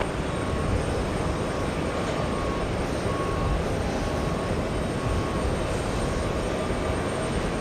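A heavy American Airlines jet arriving at JFK produces a dense, continuous engine roar at moderate volume, broad and unbroken throughout with no talking.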